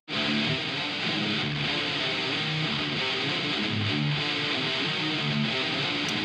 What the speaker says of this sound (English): So the guitars sound like this.